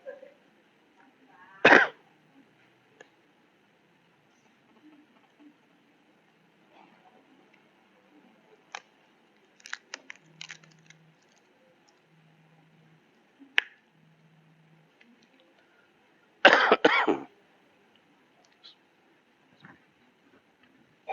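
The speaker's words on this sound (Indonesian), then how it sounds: "Mohon maaf, batuk." A speaker at a women's association religious lecture coughs two separate times, both sharp, close bursts, with faint room sounds in between.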